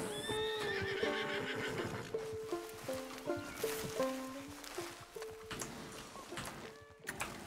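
In Red Dead Redemption 2, a nearby horse neighs and whinnies while its hooves clop unevenly at a walking pace, the calls rising and falling over several seconds.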